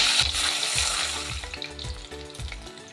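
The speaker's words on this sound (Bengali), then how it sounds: "তেল ভীষণ ভালো করে গরম হয়ে গেছে। আমি একটু নুন ছিটিয়ে দিয়েছি, এই দেখুন। এবার আমি মাছগুলো ছেড়ে দেবো।" Pabda fish sizzle loudly in hot white oil, with a bright, hissing fry that is strongest at first and gradually eases, over low, soft, regular bubbling pops, with no talking.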